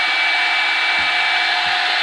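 A Revlon blow dryer brush runs on its low setting, a steady, fairly loud airy whoosh with a constant motor whine, close and continuous, with a few faint low thumps from handling.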